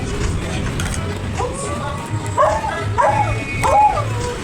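A dog barks and lets out rising, wavering howls several times, fairly close, over a steady background hum with faint voices nearby.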